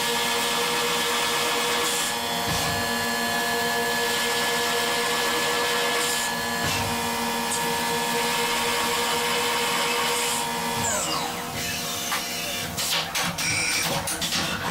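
A CNC mill ramps a quarter-inch cutter down into a metal hourglass prototype part to cut a counterbore, a steady whining machine drone with sharper squeals and clicks toward the end.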